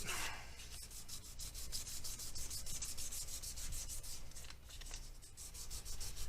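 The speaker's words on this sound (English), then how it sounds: "I'm taking the sandpaper and I'm butting it right up against the inside part of that fret." Sandpaper rubs in quick, steady back-and-forth strokes along a fret on a Gibson Les Paul Studio during an ebony-to-aged-cherry-burst refinish, a close, dry scratching rhythm that runs for several seconds with no talk.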